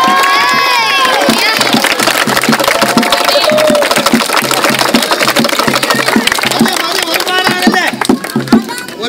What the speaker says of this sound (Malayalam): കൈയടിക്കെല്ലാരും കൈയടി